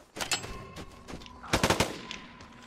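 Gunfire in the online shooter Vigor, with two quick bursts of automatic shots, the second louder and denser, close and sharp against a quiet background.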